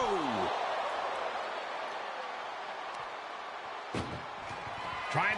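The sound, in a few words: ambulance door slammed shut in wrestling match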